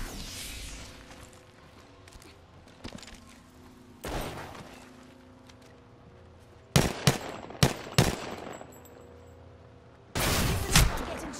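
Gunfire aimed at the player in an arena shooter video game: scattered single shots early, then rapid loud bursts of automatic fire and a heavy closing volley over a low background hum.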